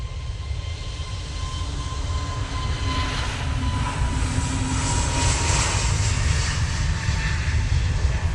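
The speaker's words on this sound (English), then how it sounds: "got LS809 going out to Malaga now using an A321neo" An A321neo airliner departs Manchester Airport bound for Malaga, its engines a steady, fairly loud broadband roar with a low rumble that builds slightly and holds throughout, alone with no talking.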